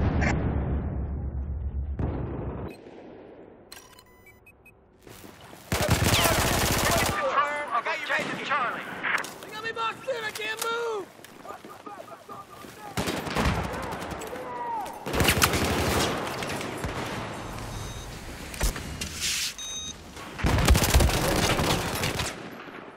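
Rapid automatic rifle fire from a FAMAS in Battlefield 4, in repeated bursts of gunshots amid other game battle noise, with people talking over it.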